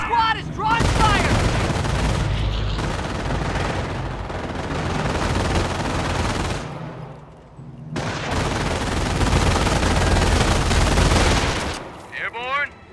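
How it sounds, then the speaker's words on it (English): Machine gun fire in the Company of Heroes battle game comes as sustained dense bursts and fusillades with booms, loud and continuous for most of the stretch, with brief shouted voices near the start and end. "MP squad is drawing fire!"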